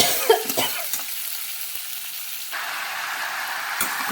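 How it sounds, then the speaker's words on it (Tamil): Dried red chillies and small shallots frying in hot oil, a steady close sizzle with a few sharp stirring knocks early on, the hiss swelling louder as the shallots drop into the pan partway through. "இப்போ வரமிளகா வறுத்து இந்த வெங்காயத்தை போட்டுக்கலாம்."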